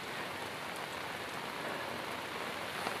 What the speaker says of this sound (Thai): นี่เขาค้อนะครับวันนี้ฝนตกแรงมาก